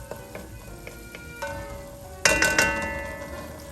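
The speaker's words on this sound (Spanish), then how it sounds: "Fuego muy suave para que la cebolla vaya quedando suave y transparente" Onion fries gently in a pan over very low heat with a soft, steady sizzle, broken by a few light taps and then a brighter clatter of stirring partway through.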